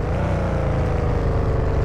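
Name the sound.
car engine sound in Car For Trade Dealer simulator video game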